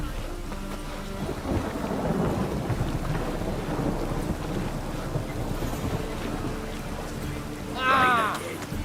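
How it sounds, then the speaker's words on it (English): Rain and thunder in The Witcher 3, a steady wash of rainfall and low rumbling under wind, with a brief game voice rising near the end. "And it's raining again."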